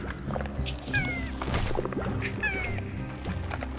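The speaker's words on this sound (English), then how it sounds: "Oh, hello, giant cat." A cat meows twice in short, rising calls in the video game Slime Rancher, amid a busy background of game clicks and tones, fairly close and clear.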